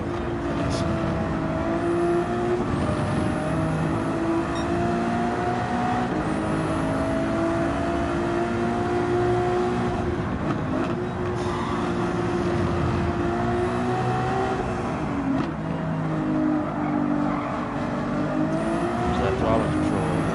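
A race car in a racing video game, its turbocharged engine revving and climbing through gears for a sustained stretch, with rising and falling pitch sweeps as throttle is fed on and off through corners; loud and close throughout.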